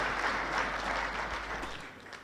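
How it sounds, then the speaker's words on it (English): Applause from an audience at a Kenyan National Assembly session for a visiting ambassador, a steady, dense round of clapping over a low hum that fades slightly toward the end. "Another round of applause for Ambassador Macharia."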